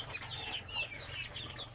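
Chickens at feeding time with yellow corn, clucking and chirping in short, overlapping calls over a low background hum, close by and fairly soft.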